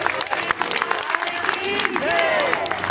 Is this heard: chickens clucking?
no